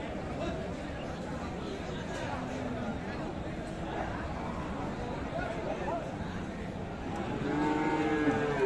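Bulls being sold for Qurbani at the Aftabganj cattle market in Dinajpur moo loudly amid a steady crowd hubbub, with people chattering nearby throughout.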